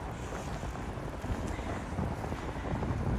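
Strong wind blows steadily under a bridge, buffeting the microphone with a continuous low rumble and rushing noise for the whole stretch, with no voices.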